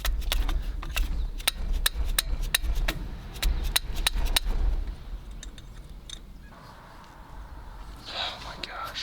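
Sharp metallic hammer blows on a stuck bolt of a water-damaged 1950s Massey Harris 35 tractor engine, a rapid uneven series of close, loud strikes over several seconds, then quieter handling noises.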